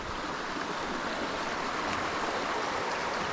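A creek on the Maddron Bald Trail rushes in a continuous hiss beside an old stone wall, an even outdoor water sound with nothing else over it.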